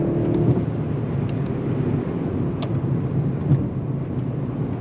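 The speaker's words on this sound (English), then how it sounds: "On throttle, here we go. Nice shifts from that 9-speed." Steady engine and road rumble from inside a 2022 Mercedes-Benz S580 accelerating through its 9-speed gearbox, a continuous low hum with faint ticks and no clear shift breaks.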